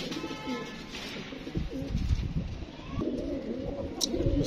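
Ferozepuri pigeons coo in low, throaty murmurs nearby, overlapping one another, with a sharp chirp near the end.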